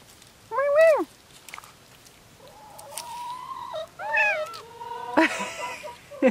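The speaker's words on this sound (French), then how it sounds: "Oh là, je me fais attaquer par un petit chat sauvage." A small wild cat gives several distinct meows, some short and rising, others drawn out, with brief pauses between them and faint background noise.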